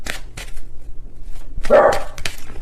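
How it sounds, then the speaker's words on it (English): Dogs bark in the background indoors: a few sharp barks, with a louder burst near the end, amid quiet rustling and no talking. "please ignore my dogs in the background"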